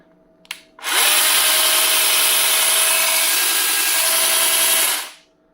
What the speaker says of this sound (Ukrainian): Вставляємо акумулятор і будемо зараз запускати цю чудопилу